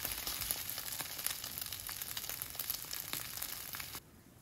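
An oyster omelette fries slowly over low heat, giving a soft, steady sizzle with small crackles that stops abruptly near the end.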